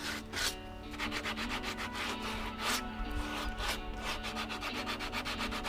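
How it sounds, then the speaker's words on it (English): Steady, rhythmic sanding strokes rubbing across wooden campervan tables, close and continuous, with no talking. "it's on to a nice bit of sanding"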